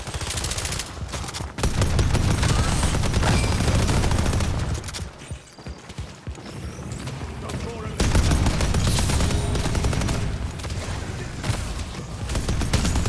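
Sustained rapid gunfire from a turret and weapons in the Deadlock video game, loud dense bursts that pause briefly midway and then resume, with a voice speaking over the action.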